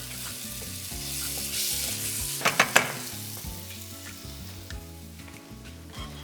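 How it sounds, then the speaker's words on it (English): Curry-style paste frying with beef in a pan, a continuous hiss and sizzle with a burst of sharp scraping stirs in the middle, heard under low background music with no speech. "we're going to fry off this paste just to get those flavours really going deep"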